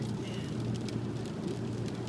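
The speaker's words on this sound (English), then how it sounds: "It's raining" Steady rain with strong wind during a drive on a winding road in the Three Peaks, a dense continuous wash of noise with a low road rumble and no pauses.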